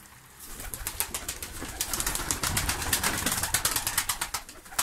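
Malatya pigeons, some with yellow wing markings, in a crowded loft of about two hundred birds coo softly while wings flap and clatter in quick repeated bursts, close and lively, with no voices.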